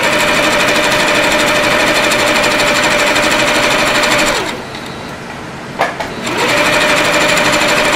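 A domestic sewing machine stitches a seam in a dress with princess seams, running loud and steady at an even whir, pausing briefly mid-clip, then starting up again.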